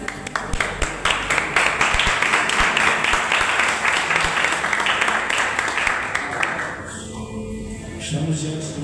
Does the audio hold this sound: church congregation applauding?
yes